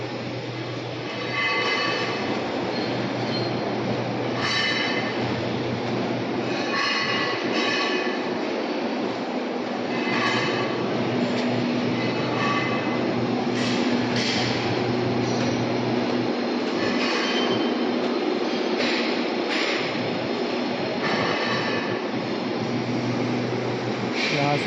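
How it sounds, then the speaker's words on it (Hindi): A Pune metro train stands at the underground Civil Court platform with a steady low hum and rumble, while occasional clicks and clanks echo around the station throughout. "देखो ट्रेन और प्लेटफॉर्म पे लगी है।"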